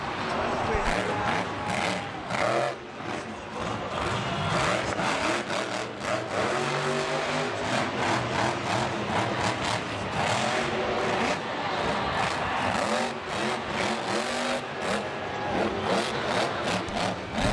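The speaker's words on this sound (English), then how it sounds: "Just listen to this truck for a little bit as you can hear the way that Anderson maneuvers his machine" A monster truck's engine revs and roars during a freestyle run at a Monster Jam stadium event in Anaheim in 2014, heard under a crowd and continuous commentary.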